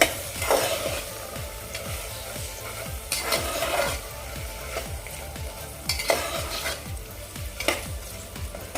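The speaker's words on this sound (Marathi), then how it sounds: "आता यामध्ये मी आपला काळा घेवडा घालून घेते आणि व्यवस्थित सर्व सर्व मसाले यामध्ये मिक्स करून घेते" Black ghevda beans get stirred and tossed with spices in a hot pan while cooking spiced rice, a steady sizzle with scraping strokes of the spoon and a few louder stirs recurring every few seconds.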